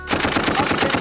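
Rapid burst of sharp, closely spaced gunshot-like cracks from a .45 pistol held near someone's head, loud and continuous through the second with no talk.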